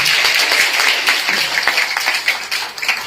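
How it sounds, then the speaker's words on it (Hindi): Audience applause at an IMC business event in India, a loud, close burst of many hands clapping that holds steady and then thins slightly toward the end. "जिनके लिए चाहूंगा जोरदार तालियां"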